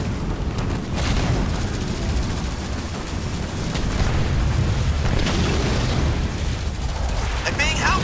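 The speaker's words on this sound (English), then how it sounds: "If they want an explosion, let's not keep them waiting." Heavy explosions boom through a Halo Wars 2 battle, a dense continuous wall of blasts and rumbling impacts that stays loud and close throughout, with occasional sharper bursts and no speech on top.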